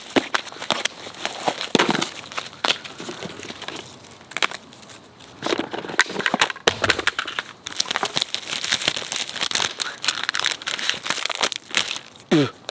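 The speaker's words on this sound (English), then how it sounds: "let's rip into this box!" Cardboard and plastic packaging of a phone box being ripped and crinkled open, a busy run of tearing, crunching and crackling that fills the whole stretch, loud and close with no talk over it.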